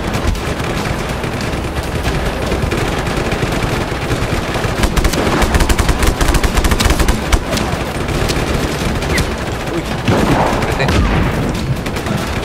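Rapid bursts of automatic gunfire mixed with heavier booms fill a Just Cause 3 firefight, loud and near, firing almost continuously for about twelve seconds.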